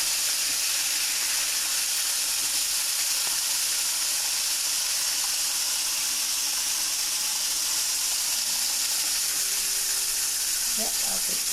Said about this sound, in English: as you listen to your chicken frying, you can hear that like the bubbles aren't as powerful